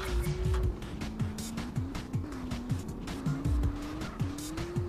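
A car in GTA San Andreas accelerates hard while its tires squeal. The engine revs rise and fall in repeated shifts under a steady, near screech.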